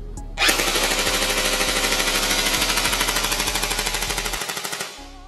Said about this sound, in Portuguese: Nossa, ela vibra muito. Esse fogo automático aqui é absurdo.